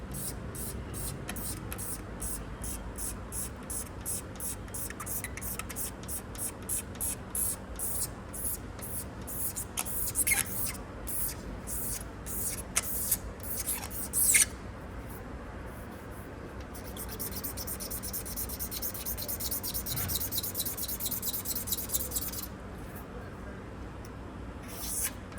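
A hand file rasps over a painted surface to level paint runs, making repeated short, faint scraping strokes in a steady rhythm.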